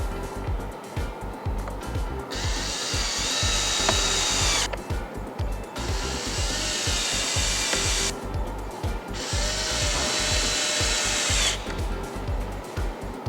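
A power driver drives four screws into a plastic switch panel for a Ford Bronco upfitter-switch install, sounding as three separate whirring bursts of a few seconds each, close and fairly loud, with quieter handling noise between them.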